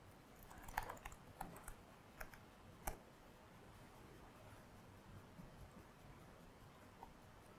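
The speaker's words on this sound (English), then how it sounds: "I randomly just smashed the keyboard." Keys being randomly smashed on a computer keyboard produce a quick flurry of sharp clicks and taps, loudest early on and thinning into sparse faint clicks, quiet and close with no talking.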